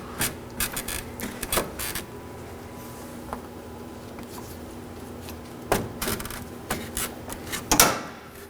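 The top edge of a bumper on a 2013-2019 Nissan Sentra being pulled up, heard as a series of sharp plastic clicks, snaps and rubbing knocks in bursts, close by with quiet pauses between.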